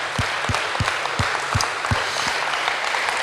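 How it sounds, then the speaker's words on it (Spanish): Congregation applause at a Spanish-language church service, heard as a dense, steady wash of clapping with a few louder low thumps spaced roughly every third of a second, likely from a nearby clapper. "Le damos otro aplauso a Jesús."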